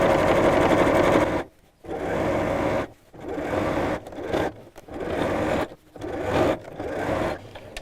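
A sewing machine stitches the opening of a fabric storage pouch closed, running in steady bursts of loud, close whirring separated by short pauses.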